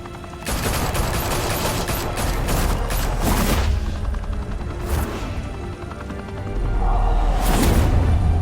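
Heavy gunfire in a Batman video game set in Gotham, sustained volleys of rapid shots and booming bursts filling the clip, with louder bursts near the start and again at the end, no voices.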